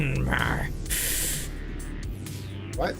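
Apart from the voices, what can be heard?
hypertube suction sound in video game Satisfactory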